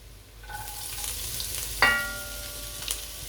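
Garlic and then ginger sizzling in hot oil in a pan while cooking biryani rice, a steady soft frying hiss with a sharper clink of a utensil near the middle and faint stirring, no talking.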